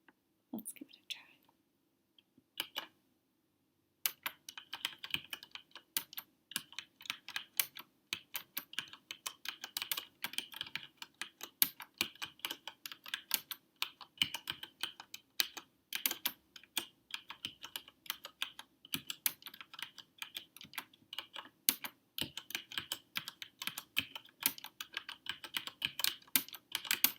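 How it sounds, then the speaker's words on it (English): Slow typing on a mechanical keyboard: steady, spaced key clicks and clacks close up that keep going throughout, with soft whispering underneath. "I'm so used to just typing as I'm talking that slowing down will be hard for me if I do a slowed down typing video"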